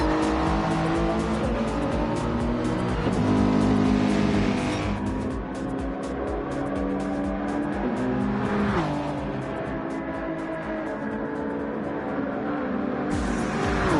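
GT3 race cars including a Mercedes racing on track, engines roaring loud and continuous with gear shifts and rising, falling revs as cars pass close by.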